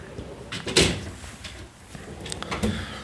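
Drawer of a Snap-on tool box sliding open or shut, a sharp metallic clack near the start followed by lighter rattles and a second softer bump, close up with some room noise.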